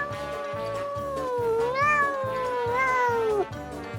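A cat meows repeatedly, several drawn-out rising and falling cries close up, over a steady rhythmic background beat with no talking.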